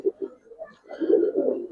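Giribaz and silver-winged pigeons at a market coo in a few soft, low bursts, close by and fairly quiet, with no talking.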